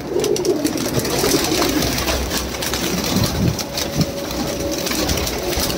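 Pigeons coo and flutter inside a crowded pigeon shop, several birds calling over a busy background hum with occasional low engine noise, close and fairly loud.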